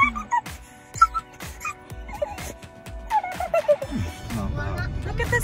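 Dog whimpering and yipping from inside a car on a cross-country road trip pulling a travel trailer, short high whines repeated over road noise while a person talks.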